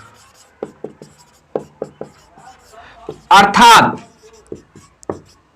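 A pen or chalk writes notes by hand during a chemistry lesson, making short scratchy strokes in an irregular rhythm, with one brief spoken word from a teacher in the middle.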